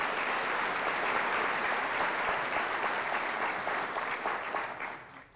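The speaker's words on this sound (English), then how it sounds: "Let's give them a round of applause." Audience at a chamber of commerce annual meeting in Oro Valley applauds steadily, a dense, even wash of many hands clapping close by that holds for several seconds before tapering off at the end.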